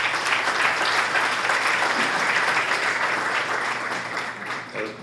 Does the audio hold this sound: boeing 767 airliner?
no